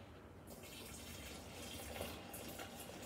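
Liquid is poured into a container while making homemade Himalayan wine, a soft continuous splashing and gurgling fill heard close up and fairly quiet, without any talk.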